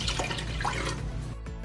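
Water is poured into a pot holding soy sauce, sugar and brown rice vinegar to make brine for pickled radish greens. The splashing pour runs close and steady for about a second, then stops abruptly.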